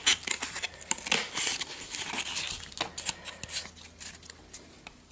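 Cardboard being cut for a 1:35 scale diorama hedge, a quick run of close, crisp snipping and scraping sounds in short bursts, fairly quiet with no talking.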